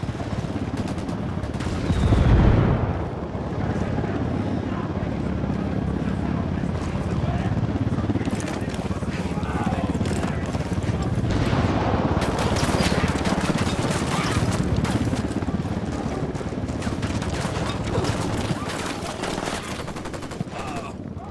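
Gunfire in a Ghost Recon Wildlands cutscene during a mortar and sniper attack: loud, dense volleys that run almost continuously, with a sharp blast near the start, mixed with voices and a busy background.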